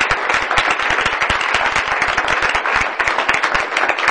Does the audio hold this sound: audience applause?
yes